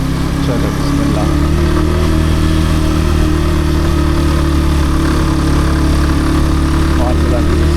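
A motorcycle engine runs steadily close by as the rider shifts down a gear, a constant low droning hum, with someone talking over it.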